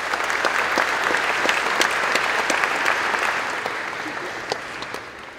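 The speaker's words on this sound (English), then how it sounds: "give yourself another round of applause for getting here and being so successful" A large crowd of new university students applauds at an undergraduate welcome ceremony, steady, dense clapping filling a big hall from start to finish, with a few sharper nearby claps standing out.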